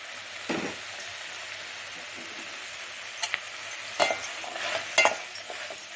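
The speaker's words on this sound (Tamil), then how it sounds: "போட்டு நல்லா வதக்கி விடுங்க." Ginger, garlic and bay leaf sauté in a pan with a soft, quiet sizzle, joined later by a few sharper stirring scrapes and clinks.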